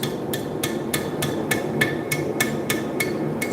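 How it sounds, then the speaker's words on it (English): Light hammer blows curl metal, about a dozen sharp, evenly spaced ringing strikes in a steady rhythm against a noisy workshop background. "Happy little curls, light hammer blows, nothing too crazy"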